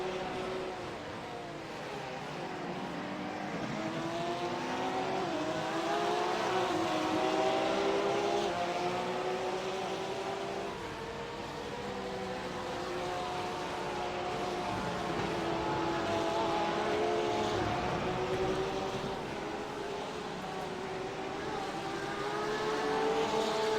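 GT3 race cars battle at Virginia International Raceway, engines howling continuously at a steady loud level with rising and falling pitch sweeps as cars accelerate and pass through lap traffic.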